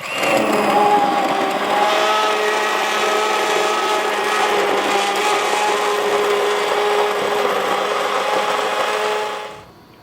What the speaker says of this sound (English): I have blitzed up all of these wonderful vegetables and this broth here